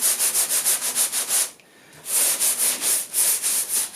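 Rhythmic back-and-forth strokes of 80 grit sandpaper scrubbing fifty-year-old painted fibreglass, loud and close, about two strokes per second with a half-second pause partway through before the rasping resumes.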